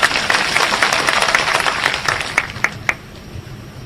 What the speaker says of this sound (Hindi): जरा जोरदार ताली बजाओ तो एक बार।